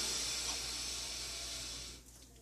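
A long, steady breath hissing through the teeth during a Trigenics treatment, close and fairly loud, trailing off after about two seconds, with no talk over it.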